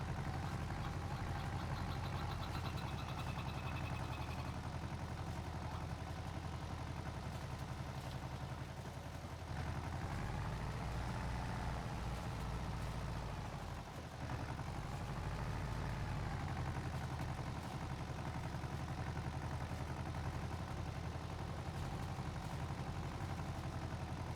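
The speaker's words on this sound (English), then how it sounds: "I'm just kind of plugging away here listening to the tractor." Tractor engine in Farming Simulator 22, a steady low droning hum running continuously at moderate level, with only slight shifts in load and no talking.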